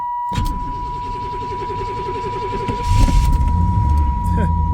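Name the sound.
Pontiac Firebird engine starting with keys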